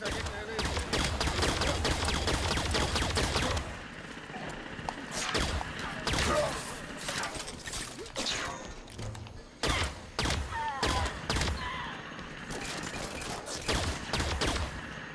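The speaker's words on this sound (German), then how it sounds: "Warum schießen die?" Gunfire in the shooter game Halo 5 Guardians, dense automatic bursts and rapid sharp shots in clusters, loud and near, with pauses between volleys and voices talking over the battle.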